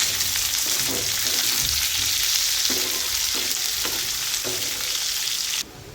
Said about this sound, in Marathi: थोडं तेल टाकूया आणि ते भाजून घ्यायचं।